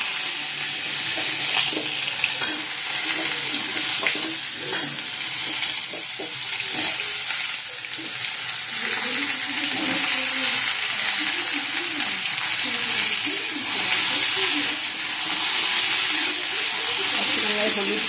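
Pumpkin pieces hitting hot oil in a kadai already tempered with five-spice, cumin and dried red chili, a loud steady sizzle and hiss with stirring scrapes, close up, and occasional faint talk.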